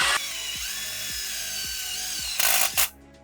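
A power driver runs a number 8 sheet metal screw into a fuel tank, giving a steady close whine with repeated low ratcheting pulses, then a brief louder burst near the end before it stops.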